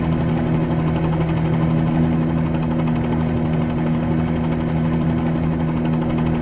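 A helicopter in Microsoft Flight Simulator 2020 touring over Dubai at night, with a constant loud drone of rotor and turbine that hums with a steady pitch and never breaks.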